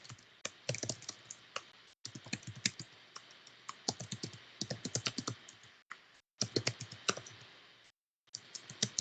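Rapid typing on a computer keyboard, close and crisp, with bursts of clicky keystrokes separated by short silent pauses.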